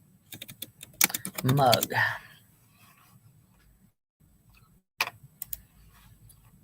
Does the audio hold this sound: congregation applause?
no